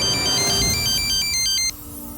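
A mobile phone rings with an incoming call, a loud repeating electronic ringtone melody over a busy indoor background that stops abruptly near the end.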